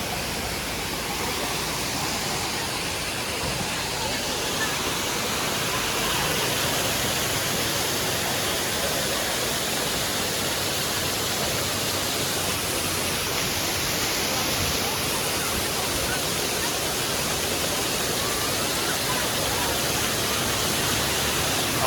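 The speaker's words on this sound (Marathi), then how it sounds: "फर्स्ट वॉटरफॉल आहे." The first waterfall at Malshej Ghat roars in heavy monsoon rain and mist, a dense, continuous rushing wash that stays steady and loud, with faint talk barely surfacing beneath it.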